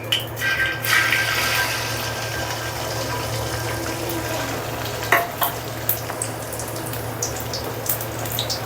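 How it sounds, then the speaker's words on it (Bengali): Beaten eggs fry in a wok on a stove, a steady close sizzle over a low hum, with a few scattered scrapes and taps of a utensil in the second half. "ডিম ভাজার জন্য কড়াই দিয়ে দিব চুলার উপরে"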